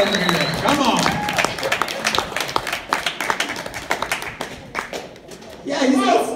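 A crowd claps steadily in dense, sharp bursts while someone talks over it; the applause dips briefly, then swells again near the end.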